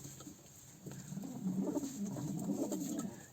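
Young speckled crested pigeons coo softly, low rounded calls repeating close by over faint background noise.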